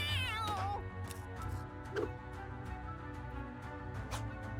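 Cats meow and yowl in the Guild of Dungeoneering video game as they are thrown at enemies. A sharp wavering meow comes at the start, followed by a steady game music bed with a few soft hits.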